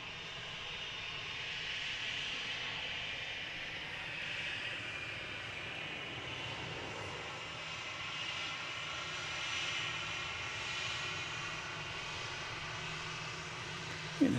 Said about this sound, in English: We do have a 777 to show you, though. It's coming in from London. It's American Airlines Flight 81.